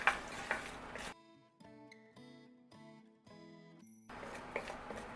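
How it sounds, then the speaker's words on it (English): Onions saute in olive oil for tomato soup, a steady close sizzle heard at the start and end, with a stretch of gentle musical notes in between. "drop in our onions, and we're going to start sauteing these up"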